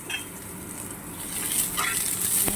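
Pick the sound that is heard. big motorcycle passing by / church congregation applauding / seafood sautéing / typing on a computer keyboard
seafood sautéing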